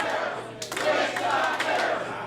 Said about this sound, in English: the fans cheering for Witch Doctor